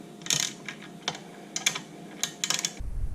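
Short bursts of sharp, dry clicks from a hand tool tightening the S&S slip-on exhaust on a Royal Enfield Interceptor 650, with quiet pauses between bursts and a low rumble at the end.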